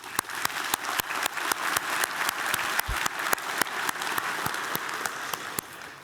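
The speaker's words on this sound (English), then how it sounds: "A round of applause for everybody." An audience at an energy summit applauds the organisers, steady moderate clapping from a room of people with a few sharper individual claps standing out throughout.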